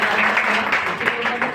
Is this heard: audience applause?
yes